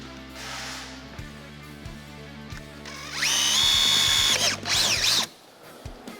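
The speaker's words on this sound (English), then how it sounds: "So this is the piece you have to drill." A power drill bores into a bracket piece during a Ford Everest 6-speed transmission oil cooler install, a short high whine rising for about two seconds, then a brief second burst, preceded by clicks and a low hum.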